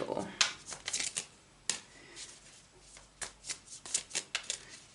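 A deck of tarot cards is shuffled by hand in quick riffles and short bursts of papery flicks, close and soft, with brief pauses between rounds.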